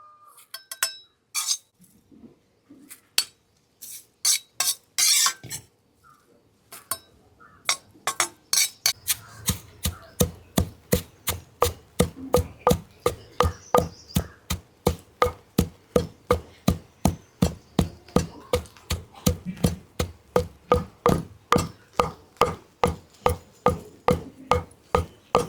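Dried, oil-fried curry leaves are pounded in a mortar: sparse sharp knocks at first, then a long steady rhythm of loud, evenly spaced thuds and clinks, close and alone without speech.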